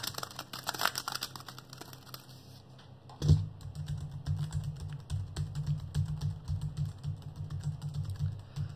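Steady close typing on a computer keyboard, rapid irregular key clicks over a faint background hum, with a brief louder thump partway through and no voices.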